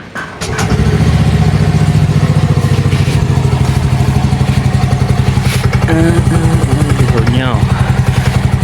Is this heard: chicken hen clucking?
no